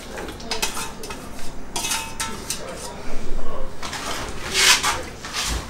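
Onions and tuna fried in clarified butter in a pan, stirred with a utensil, giving scattered clinks and scrapes of metal on the pan over a soft background sizzle, with a person talking throughout.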